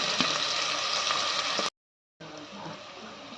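Chilli and onion fry in a pan for chicken biryani, giving a steady broadband sizzle that cuts out for a moment and then resumes a little softer.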